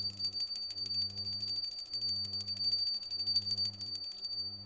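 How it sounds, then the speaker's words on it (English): A small tinkly bell rung during a tarot card cleansing, clear repeated high chiming strikes shimmering over a steady low hum, close and fairly soft, with no talking. "We're going to use the tinkly bell."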